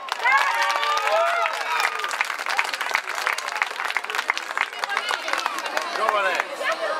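An audience at an outdoor Easter Monday show in Ardore Marina, Calabria, applauds dancers with steady, dense clapping mixed with cheers and whoops, voices talking and calling out over it throughout.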